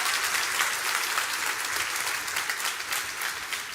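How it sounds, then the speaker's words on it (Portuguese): Church congregation applauding steadily, a dense wash of many hands clapping at even loudness throughout with no pauses. "Pode dar um salve de palmas"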